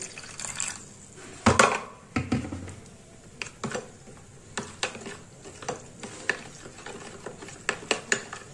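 Ground spice powder is whisked with a little water in a bowl for a fish curry. Irregular, close scraping and clinking strokes of the utensil come with short wet swishes, and no one speaks.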